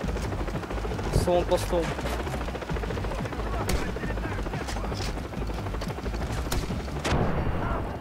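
Helicopter rotor drone and bursts of gunfire rumble loudly through a Far Cry 3 firefight, with sharp shot transients scattered across the scene and someone shouting briefly over the action.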